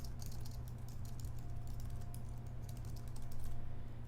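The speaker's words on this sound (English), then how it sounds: "Type the intended recipient into the to box." Fingers tap out an email on a computer keyboard, a fast, soft, irregular clatter of keystrokes heard close and alone over a low steady hum.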